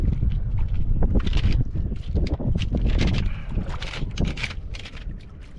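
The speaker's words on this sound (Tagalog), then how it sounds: "Lakas na rin talaga ng hangin." Strong wind buffets the microphone on a boat at sea, a steady loud roar with gusty surges and splashing, no voices.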